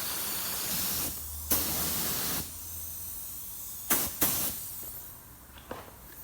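An aerosol can sprays UV primer onto a car repair in close, hissing bursts: one long spray, then a shorter one, followed by two quick puffs and a faint last one.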